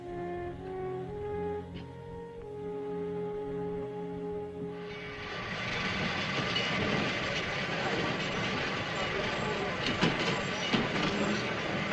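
Train at a station in a 1943 war film, rumbling quietly at first, then a loud clattering roar of rail cars rolling past that fills the second half and stays steady.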